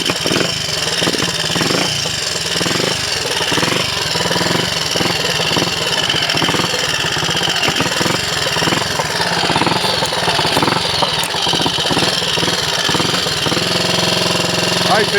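A Triumph Scrambles Cub replica motorcycle, fitted with a carburettor borrowed from a Trials Cub, runs after a bump start. Its single-cylinder engine gives a steady, close, loud rapid thumping that lasts throughout, with someone talking over it.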